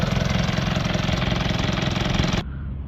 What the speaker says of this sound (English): Now we'll just start the engine, let that hose clear out.